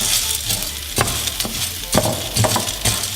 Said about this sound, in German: Jetzt muss man die Hörnchen anbraten.